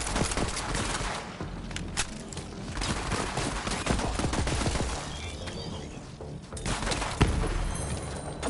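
Dense gunfire from Borderlands 3 weapons, a steady loud barrage of rapid shots with sharp peaks scattered throughout, no voices over it.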